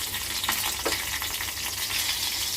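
Crushed garlic and chopped green chilies fry in two spoons of hot oil in a pan, giving a steady, close sizzle and crackle with a few brief pops and no talking.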